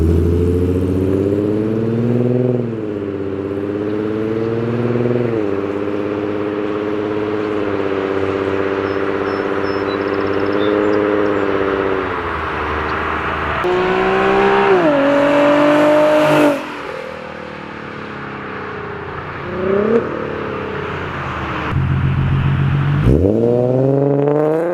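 An Infiniti G35/G37 sedan with an Ark Grip catback exhaust and ISR long tube headers revs loudly and repeatedly, its V6 idle rising into sharp throttle blips and sustained high-rpm roars with sudden drops, close and alone.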